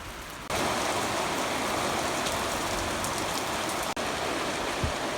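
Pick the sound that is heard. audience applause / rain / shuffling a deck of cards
rain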